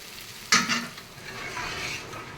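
Spice paste for aloo dum is stir-fried in a pan, with a sharp clink of the spatula against metal followed by a continuous sizzle and scraping stirs, close up.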